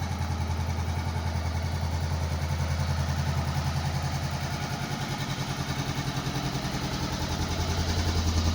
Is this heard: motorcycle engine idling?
yes